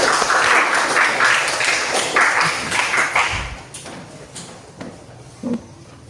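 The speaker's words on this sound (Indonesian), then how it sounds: "Beri tepuk tangan untuk kelompok 2." Classroom applause for a student group, brisk clapping from a small crowd of children that is loud at first, then thins out into scattered claps and taps before fading toward quiet.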